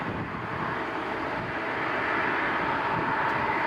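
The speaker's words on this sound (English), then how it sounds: "So that was an RJ900 to Minneapolis we just saw" Embraer RJ900 regional jet taking off at Toronto Pearson, a steady broadband engine roar holding loud and even across the clip with no talk over it.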